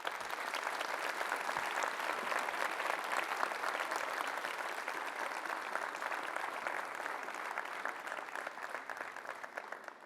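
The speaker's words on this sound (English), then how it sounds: "Please can I ask you to join me once more in a round of applause for our graduates." Applause for graduates fills a Salford Business School graduation ceremony hall, a steady, dense round of clapping from a large audience that holds even for the whole stretch.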